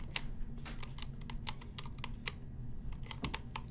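Typing on a mechanical keyboard fitted with NovelKeys Silk and Dry switches, a close, steady run of sharp clacking keystrokes at a brisk, slightly uneven pace.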